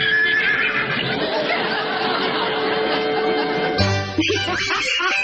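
A horse neighs and whinnies in a long, loud, continuous call, followed by a brief shift in tone at the end, heard alone without talk.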